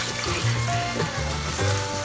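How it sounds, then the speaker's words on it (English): Running water splashes and trickles as collard greens are rinsed, making a close, continuous wash with slight gurgling variations. "Clean the greens again by rinsing them."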